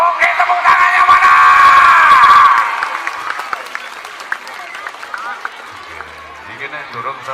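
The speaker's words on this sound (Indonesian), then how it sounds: "tepuk tangannya mana?" A crowd at a barong performance applauds and cheers loudly, with whoops and shouts mixed into the clapping. It peaks for a few seconds, then thins into scattered claps with a voice speaking underneath.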